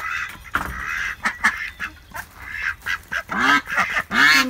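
Ducks on a farm quack in a series of short, bright calls, some overlapping into a busy chorus that grows louder toward the end, heard close by at chore time.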